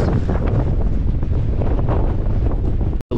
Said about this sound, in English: It's really windy. It's supposed to be like 40 knots right now, gusting 50.